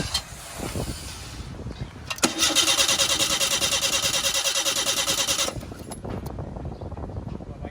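Car engine cranks after air conditioner cleaner is sprayed into the system: rough, struggling starter cranking and sputtering that catches into a loud, steady run for a few seconds, then drops back to a rougher idle, close by.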